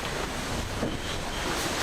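Ocean waves and strong wind roar constantly during an offshore sailing race, a dense, unbroken wash of rushing water and microphone wind buffeting with no speech.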